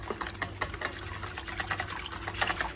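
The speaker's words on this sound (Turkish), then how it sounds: "bir çırpıcı yardımıyla yavaş yavaş unu ekleyerek karıştırıyorum" A whisk beating flour batter into boiling water for arabaşı soup, giving a fast, rhythmic sloshing and tapping that runs without a break through the short stretch.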